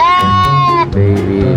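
Lamb and brown goats bleat loudly at close range, with one long wavering bleat followed by a shorter lower call, and voices murmuring underneath.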